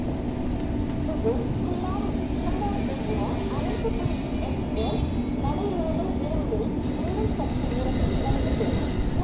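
An Indian express train from Chennai Egmore to Kanniyakumari pulls into platform 6 at Chengalpattu in a train simulator game, its steady low engine rumble and rolling hum continuing evenly as it draws to a stop.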